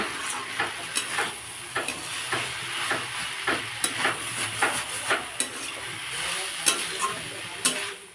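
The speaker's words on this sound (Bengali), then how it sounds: "জিরে গুঁড়োটা আমি সমস্ত সবজির সাথে মিশিয়ে নেব" Cumin powder is stirred through sizzling telakucha (ivy gourd leaf) vegetables in a pan, with a steady crackling fry under a brisk run of spatula scrapes roughly every half second, close and moderately loud, no voices.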